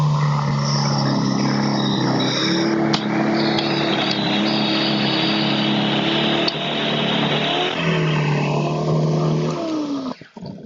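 A YERYORK single-stage snow blower clears a sidewalk and runs into the gravel along its edge, with a steady, loud engine drone that shifts pitch slightly and cuts out near the end, with no talk.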